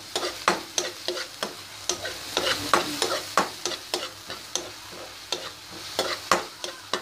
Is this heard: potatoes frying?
yes